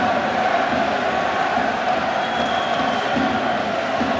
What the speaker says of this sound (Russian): А вот и российские болельщики подают голос.